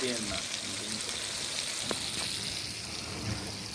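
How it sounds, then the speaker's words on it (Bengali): Sliced onion fries in oil in a large pot at an outdoor picnic cookout, giving a steady soft sizzle throughout with a faint scrape of stirring. "ভাজা হচ্ছে"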